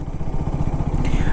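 A KTM RC 200 GP Edition motorcycle engine knocks while held in sixth gear at low speed, giving a rough, pulsing, low-pitched rumble that stays loud and close throughout.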